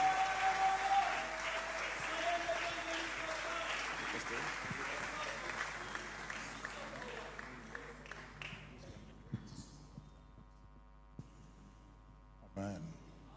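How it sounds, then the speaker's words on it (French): Church congregation applause and cheering fill the first several seconds, loud and dense, then thin out into scattered claps and a few sharp knocks. "Sous vos acclamations, aidez-moi à recevoir l'homme de Dieu."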